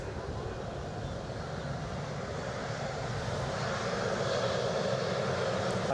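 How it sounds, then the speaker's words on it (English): A Lufthansa Airbus A321 comes in to land at Edinburgh, its jet engines producing a continuous rumbling roar that swells gently louder toward the end, heard at moderate distance. "that's Lufthansa coming in"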